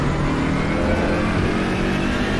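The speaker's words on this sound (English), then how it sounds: "Taking the engine to the red line." A BMW M6 GT3 race car engine revs hard toward the red line in the Assetto Corsa Competizione racing game, heard as a loud, steady, continuous drone throughout with no talk over it.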